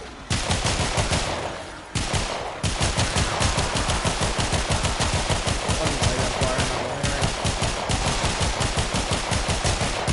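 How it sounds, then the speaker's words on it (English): Heavy automatic gun in Warframe fires in a long, loud, rapid stream of shots that runs almost without pause, with a short break near the start and another later. "Oh, I'm shooting a heavy gun."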